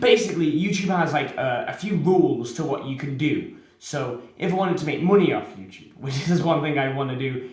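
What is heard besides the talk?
None of the usual background noises is heard.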